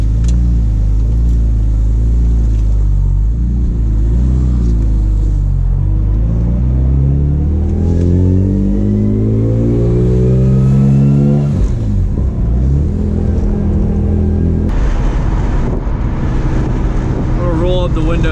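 BMW E46 M3 engine revving hard during a street drift, loud rising and falling rev sweeps with a strained, bouncing note and a sharp drop near the end, heard close from inside the car.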